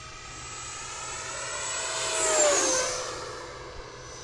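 An E-Flite Viper 90mm electric ducted-fan RC jet sweeps past at sunset, its high turbine whine swelling to a peak and falling in pitch with a clear Doppler shift as it flies by.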